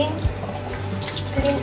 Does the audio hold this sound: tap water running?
yes